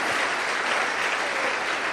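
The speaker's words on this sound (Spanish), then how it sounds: "Dale un aplauso más fuerte al Señor, que Él es digno" Steady, dense applause from a congregation during a church service, loud and continuous throughout with no talk over it.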